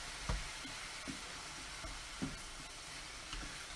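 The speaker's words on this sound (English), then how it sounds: "Give it a good mix." A seasoned bowtie pasta bake mixture is stirred in a pan, soft steady sizzling broken by a few quiet scraping thuds of the spoon, faint and close.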